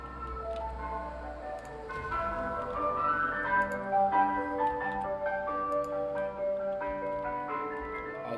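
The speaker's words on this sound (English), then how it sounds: "I've got an ice cream truck outside." A melodic ice cream truck jingle chimes steadily outside in ARK: Survival Evolved gameplay, its tinkling bright tune repeating over a low hum throughout.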